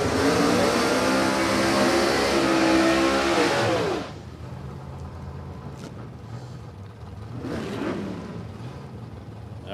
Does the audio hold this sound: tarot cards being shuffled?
no